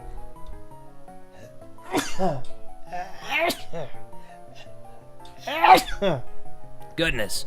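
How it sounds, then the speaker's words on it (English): Several loud, sharp sneezes burst out in sequence over faint background music, with a brief spoken exclamation among them. "That was a sneeze so loud I'll have to censor it."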